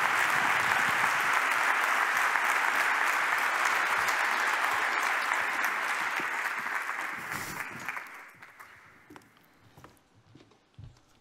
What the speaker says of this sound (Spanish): Un fortísimo aplauso para Asier Setién